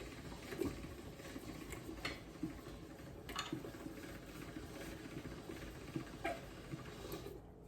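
Fresh pasta dough fed through a hand-cranked pasta machine set to a thinner setting, giving a steady low mechanical rumble with faint clicks and soft rhythmic rolling, close and moderately quiet.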